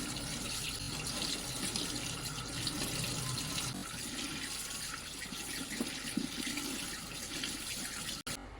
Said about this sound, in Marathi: भाजी स्वच्छ अशी पाण्याने धुवून घ्यायची